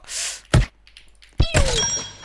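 Slapping hits in a Roblox fighting game: two loud, sharp smacks about a second apart, the second followed by a ringing synthetic whoosh and tone, with no talk.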